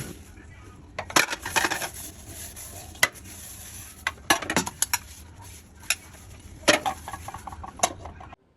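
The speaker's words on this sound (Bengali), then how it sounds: "তারপর আমি আমার প্লেটগুলো সুন্দর করে একটা একটা ধুয়ে পরিষ্কার করে নিলাম" Plates being washed by hand one by one: scattered close clinks and clatters of dishes knocking together between softer scrubbing and rinsing sounds, irregular and moderately loud.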